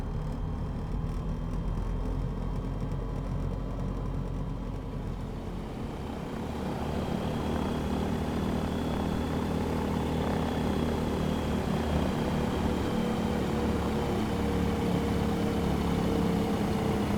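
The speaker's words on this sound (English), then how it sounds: "Just coming up on the power to get the aircraft moving." Engine of an FSReborn Sting S4 light aircraft in Microsoft Flight Simulator powering up, a steady propeller drone that rises in pitch and grows fuller partway through, continuous and close.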